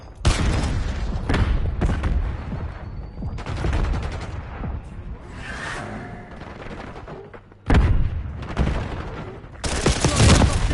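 Frag grenade blasts and heavy gunfire in a French-language first-person shooter match, with repeated loud booms and dense rapid bursts of shots layered throughout, briefly dipping before a sharp explosion near the end.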